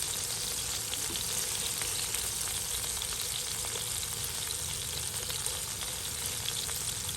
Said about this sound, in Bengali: এভাবে 5-10 মিনিট ধরে রাখলে আপনার রান্নাটা আসলে সুন্দর মতন হয়ে যাবে, মাছ ভাজিগুলো হয়ে যাবে